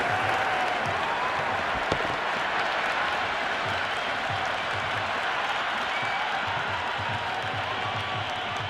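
A stadium crowd in the Cricket 26 video game applauds and cheers steadily after a six is hit. Commentary talk runs underneath the noise.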